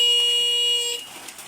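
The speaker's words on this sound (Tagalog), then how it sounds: "Testing ang busina." A newly wired vehicle horn with passing light gives one short steady blast of about a second, loud and close, then cuts off into quiet room noise.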